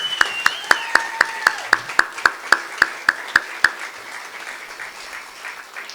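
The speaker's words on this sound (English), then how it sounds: "Once again, another round of applause, everybody." Applause from an audience comes as about fifteen slow, evenly spaced claps in a steady rhythm, fairly close, then fading into quiet room tone.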